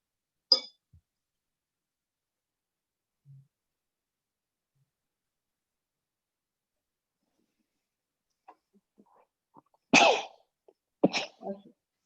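A single sharp sneeze nearby in an otherwise quiet room at a holiday party, followed by brief soft talking and small clicks.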